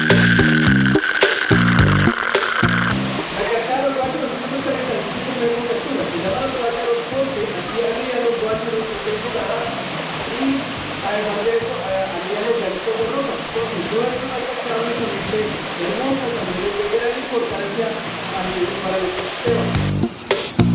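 An icy waterfall pours in a steady, loud rushing hiss as people step into it, with brief clattering sounds at the start and end.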